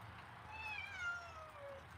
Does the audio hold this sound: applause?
no